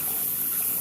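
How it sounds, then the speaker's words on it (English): Cold tap water runs steadily over raw liver and hearts in a sink, a constant bright hiss of flowing water, close and fairly loud. "I'm rinsing the liver and hearts again with cold water."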